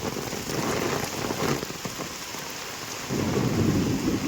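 A heavy thunderstorm over a Konkan village in May, with dense, steady rainfall drumming on surfaces throughout, low rumbling thunder rolling underneath, and a louder surge of downpour near the end.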